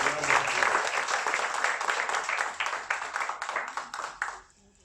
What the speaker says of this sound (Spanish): denme un aplauso grande si está el Rey de Reyes